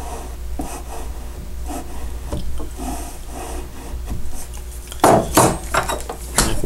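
Blade carving a wooden instrument neck in a climb cut toward the peg head, soft irregular scraping and shaving strokes, close and quiet, with a few sharper, louder scrapes near the end.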